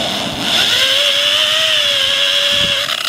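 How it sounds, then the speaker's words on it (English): A buffing wheel spinning with polishing compound being applied, a loud steady motorized whine with a rising tone that holds throughout, no talk. "now we're getting some polishing compound on the wheel itself."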